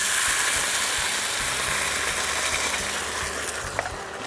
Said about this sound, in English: it's coming to a boil pretty quickly, and that's what I want